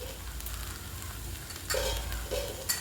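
Okra cooks in a hot pan, giving a steady frying sizzle with a couple of brief louder bursts as it is stirred, close and without voices.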